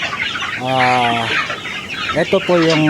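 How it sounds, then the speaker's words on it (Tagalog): Three-month-old farm chickens weighing over a kilo cluck close by in a short run of calls, and someone speaks briefly among them. "At gusto ko rin po kayong dito ipakita ko yung ating mga manok."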